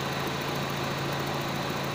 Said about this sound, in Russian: Включился радиатор,